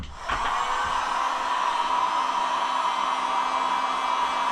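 Hot air blower warming vinyl decals on a KLX110 pit bike: a steady, loud, close whirring rush that switches on abruptly and holds an even tone throughout, with no talk over it.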